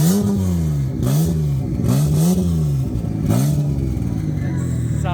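Rising and falling engine note from a fast Toyota Hilux farm truck at a race track, revving repeatedly in loud waves with a clattering undertone.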